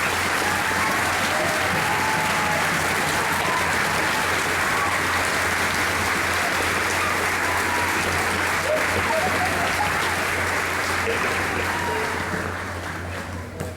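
Sustained, loud applause from a school audience at a junior high spring orchestra concert, a dense wash of clapping that holds steady for many seconds before beginning to thin at the end.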